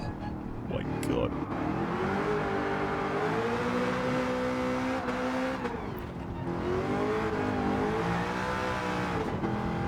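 A new Corvette with a weight-reduced interior drifts sideways, its engine drone swelling and dipping in pitch as it revs continuously for ten seconds, loud and close from the cabin, with a voice talking over it.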